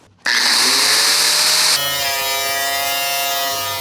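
A power tool cutting out rusted body metal on a 1969 Chevrolet C10 truck starts up abruptly, then holds a loud, steady high-pitched whine close by, its pitch dropping slightly partway through as the blade bites, with no talking.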